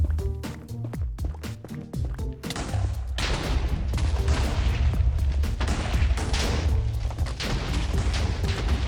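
Minecraft TNT blocks detonate in the Nether, first as a rapid series of sharp separate blasts, then merging into a dense, continuous rumbling barrage of explosions, loud and close.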